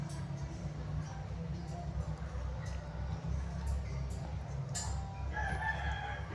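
A four-day-old chick, half SBR and half White Kelso, gives a few short, high peeps near the end over a person talking, while a rooster crows and clucks in the background.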